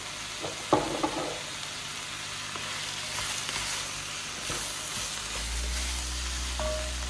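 Chopped garlic pieces sizzling as they fry in a pan, a steady close hiss with a couple of sharp clinks near the start and a low hum toward the end.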